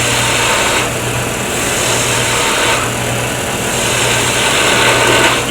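A wood lathe spins a pen blank as a gouge cuts down its diameter, a loud continuous motor whine with a steady hum and a rough scraping texture that swells in periodic waves as the tool passes along the piece.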